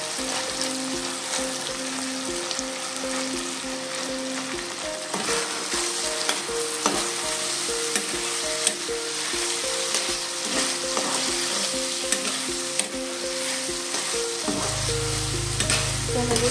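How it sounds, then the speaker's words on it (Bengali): Turmeric masala sautéed and stirred in a pan, a steady close sizzle of frying with repeated scraping strokes of the spoon, a bright tonal hum running underneath, no voices. "হলুদ দেওয়ার পরে আমি এটাকে কিছুক্ষণ কষিয়ে নেব খুব ভালো করে।"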